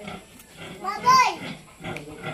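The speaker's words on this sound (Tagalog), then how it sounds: "Baboy!" A piglet squeals and grunts amid nearby voices, with one higher-pitched squeal standing out in the middle.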